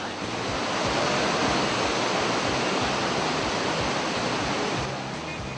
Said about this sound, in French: Ces cascades présentent un tableau des plus originales.